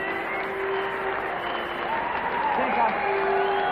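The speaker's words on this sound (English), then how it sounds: "Michael Slater leading the applause from the rooms." Cricket crowd at Kingston applauds Steve Waugh reaching 150 against the West Indies in 1995, a steady wash of clapping held at moderate level under a commentator's voice.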